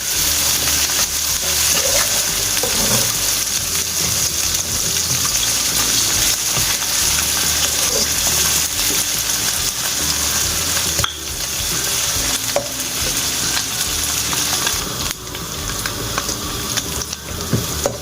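Onion with garlic-ginger paste fries and sizzles steadily in a pan while being stirred, the scraping of the spoon recurring throughout under a constant hiss, with no talking.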